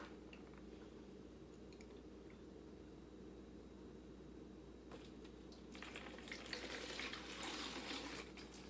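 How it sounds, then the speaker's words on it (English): Pickle juice poured into a pan for Kool-Aid pickles, a soft wet splashing and trickling that swells in the last few seconds over a quiet background. "We're going to pour some pickle juice in here."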